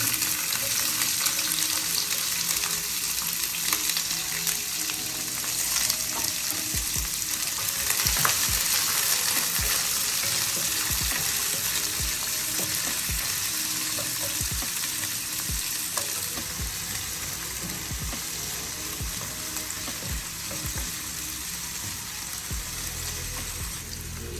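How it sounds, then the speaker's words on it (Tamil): Onions fry in hot oil in a pan for crab gravy, giving a continuous close sizzle with occasional stirring crackles, steady and loud with no talking. "அதில் முதல் வெங்காயத்தை போடுவோம்."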